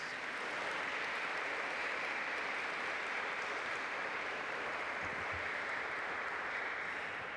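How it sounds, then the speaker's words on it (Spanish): A congregation at a Spanish-language Mass on Divine Mercy Sunday claps, giving a soft, even, distant wash of applause that holds steady throughout. "Vamos a darles un aplauso"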